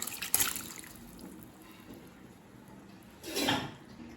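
Cooked vegetables and lentils go into a pot of Pongal sambar, with a wet slosh at the start, a quiet stretch, then a second thicker splashing plop near the end, close by.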